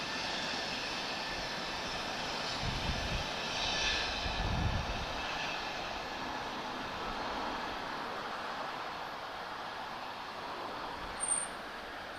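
An Emirates airliner at Lisbon Airport, a steady broadband jet roar that holds at a fairly even level throughout with slight swells, heard at a distance with no talking.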